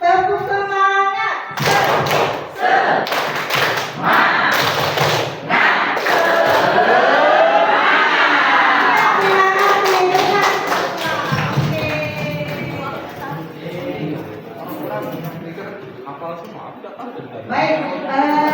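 Students in an Indonesian vocational school classroom perform the tepuk semangat clapping chant, rhythmic bursts of group claps and thumps mixed with shouted chanting, loud and close, with voices throughout.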